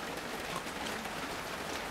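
Steady rain falling outdoors at a roadside food stall selling lechon chami and chicharon, a continuous even hiss with no speech.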